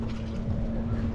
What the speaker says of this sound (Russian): Ой, какой катер классный.